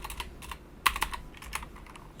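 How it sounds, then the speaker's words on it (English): Computer keyboard typing, a quiet run of quick light key clicks in irregular rhythm with one firmer tap near the middle, close and without speech. "I'm going to type this in"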